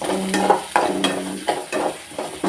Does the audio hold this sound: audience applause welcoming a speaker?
no